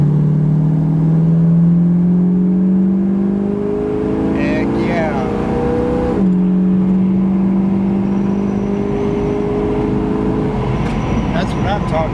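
A 1969 Ford Mustang Mach 1 engine roars and revs up through the gears, pitch climbing, dropping at a shift, then climbing again, with a voice speaking over it.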